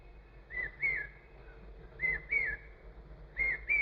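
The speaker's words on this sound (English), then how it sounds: "give your whole mind and heart to that bird that's calling" Outdoors, a bird calls in three pairs of clear, whistled notes at an even pace, each pair rising and falling, moderately distant over a quiet background.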